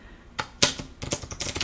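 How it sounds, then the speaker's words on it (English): A small handful of playing cards being riffle shuffled, a quick crisp flurry of snapping clicks in two close bursts, near and fairly loud. "If I can riffle shuffle 9 cards."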